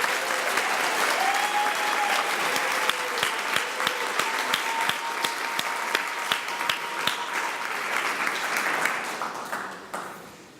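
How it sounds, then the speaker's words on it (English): Sustained applause from an audience at a gala honoring the gala committee, dense and steady clapping with sharper individual claps popping out, fading near the end. "Can we have a round of applause for the Gala committee?"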